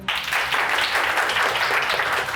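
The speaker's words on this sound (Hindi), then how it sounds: "हमारे प्रोड्यूसर साहब के लिए तालियां।" A studio audience on an Indian quiz show applauds steadily and loudly, dense clapping filling the whole stretch without pause.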